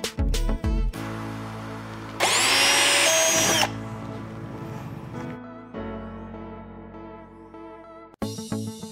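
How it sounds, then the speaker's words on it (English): A power drill bores a hole during a Razor Pack install on a Harley-Davidson Street Glide, a loud high whine rising for a second or so among workshop noise and tool handling, with no talk. "It makes a little spot so the drill will grab a hold of and not spin around"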